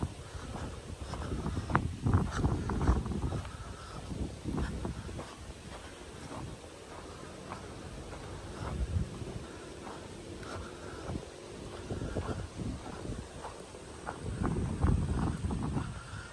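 Strong wind gusting through trees while walking around Lynville, San Rafael, a steady low buffeting roar with louder surges near the start and end, no talk.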